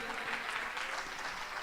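Steady, loud applause from an audience at a church gathering honouring a widow, continuous clapping filling the whole moment with no voices over it.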